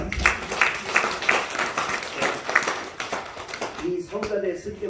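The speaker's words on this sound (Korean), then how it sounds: "이들을 위해서 더 힘내시라고 우리 뜨거운 박수 보내주시면 대단히 감사합니다." A Sunday church congregation claps for the choir, accompanist and musicians, a moderately loud burst of applause that fades toward the end as voices come in.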